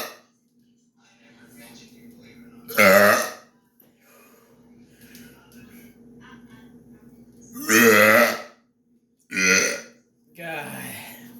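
Loud, extreme burps in a series of forceful, drawn-out eructations, each a harsh close blast, separated by stretches of quieter throaty breathing and grunting.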